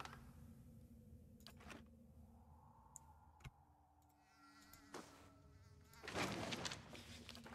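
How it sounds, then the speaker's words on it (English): Flies buzz around an untouched meal in the Pillars of Eternity video game, a faint wavering insect drone with intermittent ticks and clicks, swelling louder near the end. "You can even hear the flies buzzing around"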